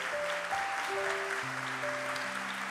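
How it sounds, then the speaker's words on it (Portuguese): A church congregation claps during a Sunday morning worship celebration, the applause fairly soft and steady beneath sustained musical tones from an organ or keyboard. "Então dê a melhor salva de palmas ao Senhor nessa manhã que você puder."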